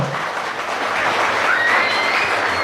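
A church congregation applauds with force during a Spanish and Guaraní sermon on the Holy Spirit, a dense, steady wash of clapping that fills the space without a break.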